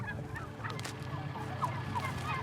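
Thousands of turkeys crowded in a farm barn the week before Thanksgiving make a dense, continuous chorus of clucks, gobbles and honking calls that overlap steadily throughout.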